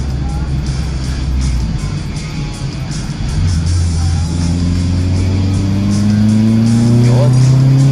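A Toyota Corolla's turbocharged 4EFTE engine running on high boost, droning loud and close, then revving higher with rising harmonic whine, while people talk in the background.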